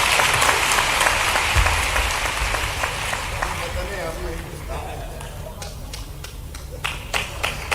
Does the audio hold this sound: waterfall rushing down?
no